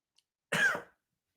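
A single short, sharp cough from a person who has just sipped coffee, close and clear against near silence.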